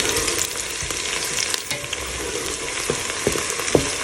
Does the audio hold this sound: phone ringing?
no